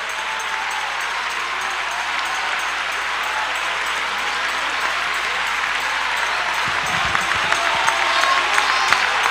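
A church congregation at a Costa Rica convention inaugural service applauds and cheers, a dense, steady wash of clapping from a large crowd that holds for several seconds, with a few louder bursts near the end.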